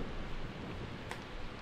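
Steady, dense rain hiss fills the scene in the video game Persona 4 Golden, an even wash of downpour with no distinct thunderclap standing out.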